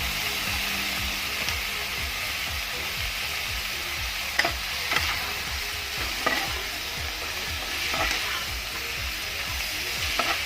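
Chinese celery is stir-fried in a wok with a steady, loud sizzle, while a utensil scrapes and stirs in a regular rhythm and a few sharper clinks stand out over the frying.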